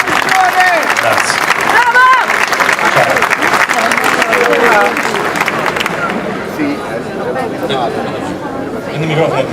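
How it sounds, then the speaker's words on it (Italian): An audience applauds warmly at an award ceremony in Italy, dense clapping mixed with chatter and voices that gradually thins out near the end. "Un altro grande applauso a Gianfranco Gallo"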